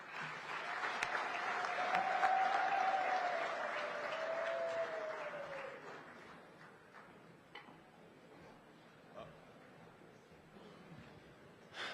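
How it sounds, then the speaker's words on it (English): Audience at a heads-of-state summit applauds, clapping swelling over the first seconds then thinning and fading out, with a sustained tone running under the early part and a few scattered claps near the end. "may I request the audience to just give us 2 rounds of applause, one for Angola"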